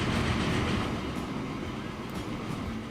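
A train rolls along the track in the Transport Fever simulation game, a continuous rumbling wash of wheels and carriages with faint rhythmic clatter, close and steady with no talking.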